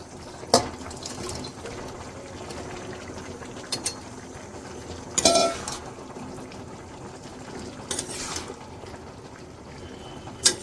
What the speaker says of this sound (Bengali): ফুটছে, এবার আস্তে আস্তে ভাজা চিকেনের পিসগুলো এতে অ্যাড করে দেব